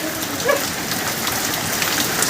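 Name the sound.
heavy rain falling in Chennai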